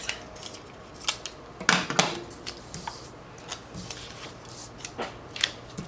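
Scissors snipping through paper for a planner layout, a series of short crisp cuts at an uneven rhythm, close and fairly quiet with light paper rustling between snips.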